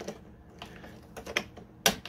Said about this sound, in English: I know it sounds rattly right now because it's not got the weight of the amp on it